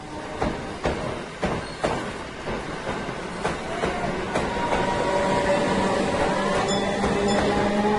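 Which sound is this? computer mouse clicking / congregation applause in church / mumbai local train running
mumbai local train running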